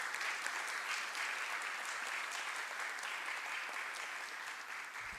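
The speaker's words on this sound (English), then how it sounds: "A big round of applause for Dr." An audience at a university research showcase gives a sustained round of applause, a dense, even wash of clapping that continues steadily through the whole stretch at moderate level.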